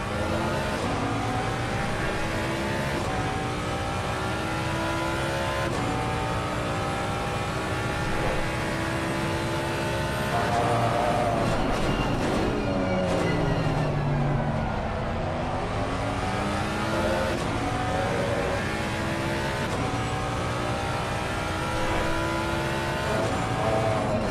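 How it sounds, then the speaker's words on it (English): GT3 race cars, including a Mustang and a McLaren, race at Red Bull Ring in a racing video game, with engines revving hard, dropping pitch under heavy braking and climbing again on acceleration, steady and loud throughout. "Here he comes once again though, Dominic Charles, heavy on the braking in the Mustang."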